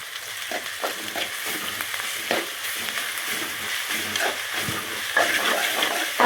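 Ginger garlic paste and chopped mint frying in a hot pan, with a steady close sizzle broken by frequent stirring scrapes and small crackles.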